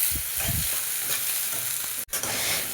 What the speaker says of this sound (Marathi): छान लाल होईपर्यंत परतून घ्यायचं कांदा।